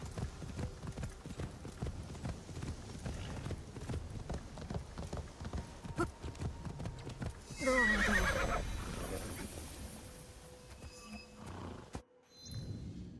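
Horses in the video game Assassin's Creed Shadows gallop with steady clip-clop hoofbeats, then a loud close neigh breaks out near the middle, with game music and ambience underneath.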